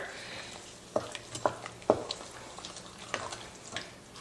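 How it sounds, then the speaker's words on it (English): A spoon stirring a sugar and pectin mixture into jam in a pot, giving a few soft scraping strokes near the close mic around the middle, with a faint bubbling sizzle underneath and no talk. "we're gonna add our sugar pectin mixture right in there, and we're gonna stir that together"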